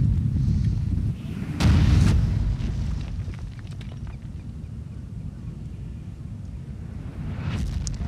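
Artillery fire in a strategy game battle at Mansoura, a heavy boom around two seconds into a low continuous rumble of battle noise, with fainter thuds later.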